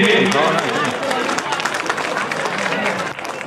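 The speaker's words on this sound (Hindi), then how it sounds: "जोरदार तालियां हो जाए हमारे माननीय मुख्य अतिथि के लिए।" An audience claps for the chief guest at a school annual function in an Indian intermediate college, a brief burst of crowd applause with murmuring voices mixed in.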